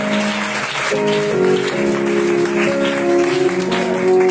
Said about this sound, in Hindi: जोरदार तालियां इस खूबसूरत कलाम के लिए